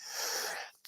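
A single sharp sneeze bursts out loudly and close, with a brief breathy tail, from a commentator on a rookie quarterback grading show.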